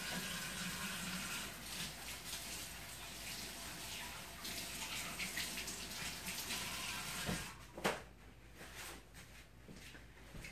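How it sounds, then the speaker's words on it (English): Water running steadily from a kitchen tap while hands are washed, a soft continuous rushing, fairly faint, with splashes and a clunk near the end as the flow is shut off. "Let me wash my hands real quick since I touched the meat."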